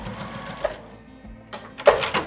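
A sewing machine finishing the edge of a dress strap, running in short uneven bursts of stitching with brief pauses between, close and moderately loud, with no speech.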